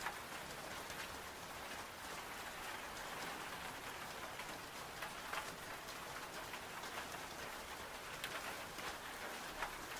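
Steady rain falling and pattering on surfaces, a dense even hiss with scattered close droplet taps, heard alone at moderate volume.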